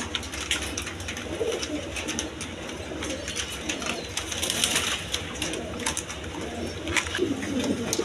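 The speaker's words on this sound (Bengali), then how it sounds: "এটা হলো পাঞ্জা, মূলত পাঞ্জা কবুতর" Panja pigeons coo in soft, repeated low calls close by, layered among several birds, with occasional rustling and light wing movement.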